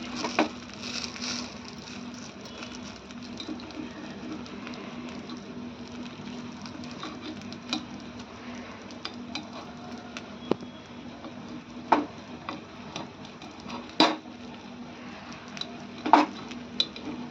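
Semolina appe with onion and tomato being flipped in a lightly oiled appe pan, soft scraping and sizzling with scattered light metallic clinks and taps that grow sharper toward the end, no talking.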